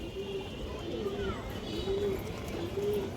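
A high-quality female pigeon on a farm coos in repeated low, throaty phrases, close and moderately loud, with someone talking steadily over it.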